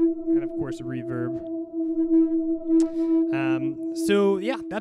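A synth lead from an Ableton Live set holds a long steady tone while short chirpy, vocal-like notes flutter over it, with a roomy reverberant tail.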